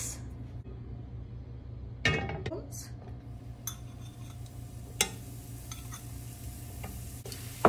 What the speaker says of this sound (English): So here I am cooking the parathas according to the package instructions. So I'm here adding some oil